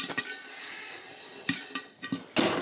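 A pressure cooker shaken over a high flame to pop popcorn gives a rough metallic rattling and scraping. Several sharp clanks come from the pot at irregular moments, and softer clinks fill the gaps between them.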